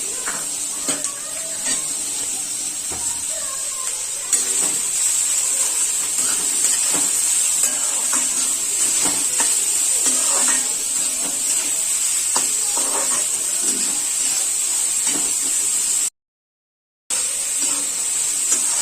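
Finely chopped onions sizzle in hot oil as a steady, bright hiss that holds for most of the stretch with faint stirring clinks, then a brief silent gap before the hiss resumes.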